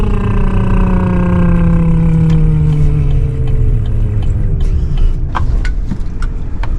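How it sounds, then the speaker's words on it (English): A heavily loaded truck engine runs loud and close, its tone dropping steadily as it slows under engine braking, with rough rattling bursts near the end. "We got a big load on the back, so we better turn our Jake brake on."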